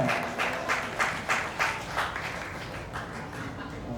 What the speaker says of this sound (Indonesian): Berikan tepuk tangan untuk kelompok Nirantara.